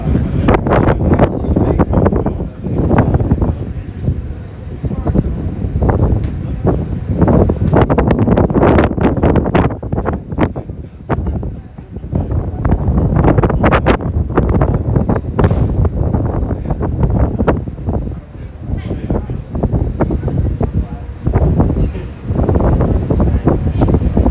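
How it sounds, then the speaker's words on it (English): Strong wind buffeting a microphone outdoors in Amsterdam, a loud continuous rushing roar with gusty swells that never lets up. "there's actually quite a bit of wind."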